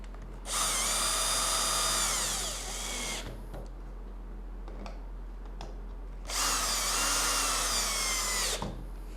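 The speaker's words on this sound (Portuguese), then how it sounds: "eu vou fazer o pré-furo. Já vou fixar com parafuso." A power drill bores a pilot hole and then drives a screw while assembling a compact Rivertools router table, two loud sustained whirring bursts of about two to three seconds each separated by a quiet pause, close and with no talking.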